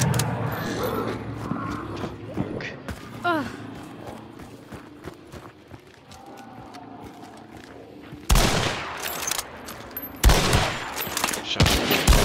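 Gunshots in Hunt: Showdown at Blanchett Graves, with a few sharp reports mid-clip and two louder blasts near the end, heard among game ambience, footsteps and players talking.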